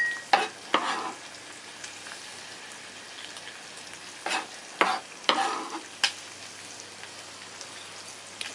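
Meat frying in a pan for a Korean miso soup, a soft, steady sizzle heard fairly faint and close, with a few sharper spattering pops and clicks scattered throughout.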